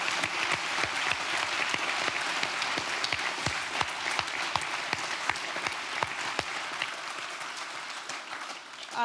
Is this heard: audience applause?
yes